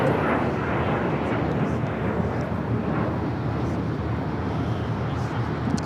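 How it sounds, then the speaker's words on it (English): An Avianca Airbus A320neo jet arrives at LAX on the south side, a loud, steady broadband engine roar that stays close and sustained throughout with no pause. "Avianca A320 Neo arriving here on the south side"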